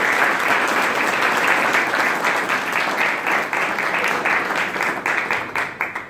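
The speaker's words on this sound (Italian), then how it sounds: "Sì, un applauso" Audience in a hall applauding the signing of a town–university agreement, a full, sustained round of clapping from many hands, steady and fairly loud, thinning slightly toward the end.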